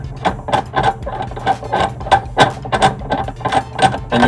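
Metal wrenches work on the fittings of a fatigue testing machine to break the torque, producing a rapid series of sharp clicks and ratcheting clanks in an irregular rhythm, close by and fairly loud.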